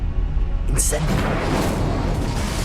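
The Incendio fire spell goes off in Hogwarts Legacy, a deep whooshing burst of flame with a brief bright crackle, followed by a sustained low rumbling roar that fills the scene.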